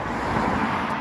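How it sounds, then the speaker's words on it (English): Steady road traffic of cars passing by, a broad continuous rush that fills the moment alone without any talk. "Other than the cars going by"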